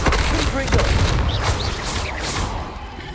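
Confringo, the fiery blasting spell in Hogwarts Legacy, goes off in booming, crackling bursts that fill the opening seconds loudly and then fade.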